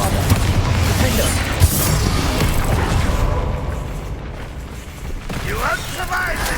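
Loud, dense barrage of booming spell blasts and crackling impacts from the Bombarda explosion spell in the video game Hogwarts Legacy, a continuous roar of combat effects with a sharp hit near the start and a brief dip toward the end.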